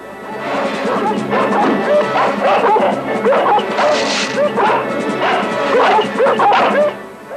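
Several dogs bark and yip excitedly in rapid, overlapping bursts, loud and close, with some whimpering mixed in.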